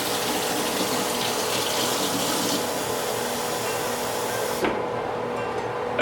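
Cold water runs from a kitchen tap into a bowl in a steady, loud rush that stops abruptly near the end, with no talk over it.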